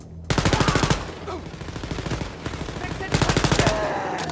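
Automatic gunfire rattles in Wolfenstein: Youngblood, with bursts of rapid, loud shots separated by a stretch of softer in-game noise, then another burst near the end. A voice talks underneath.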